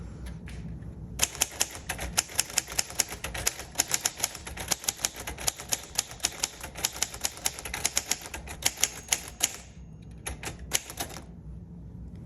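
A 1948 Royal Quiet Deluxe manual typewriter clacks through a steady run of close, sharp key strikes, then pauses and finishes with a few more scattered taps.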